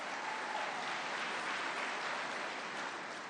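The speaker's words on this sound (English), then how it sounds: "big round of applause for that" A crowd at the Florida Freedom Summit political event breaks into steady, sustained applause, a dense wash of clapping that holds at full strength for several seconds with no voices above it.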